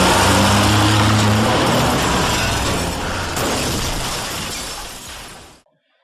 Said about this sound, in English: I'm going to show off my crashing skills with Burnout Crash